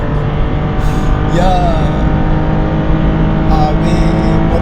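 Toyota Yaris engine revving hard on a night street run, a loud, steady strained roar with pitch rising under sustained throttle, close and continuous, with a brief spoken word over it.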